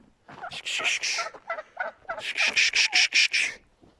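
Turkeys gobbling in rapid, rattling bursts, two main runs of quick repeated calls, fairly close with a quiet gap between.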